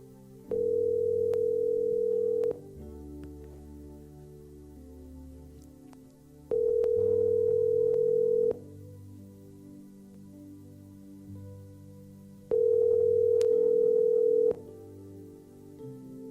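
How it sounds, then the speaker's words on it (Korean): A telephone ringback tone sounds three times in steady two-second bursts spaced by silence as a call is placed during a Sunday worship service, with faint background music underneath and no speech. "이 시간 한 곳 더 전화를 좀 하려고 그럽니다."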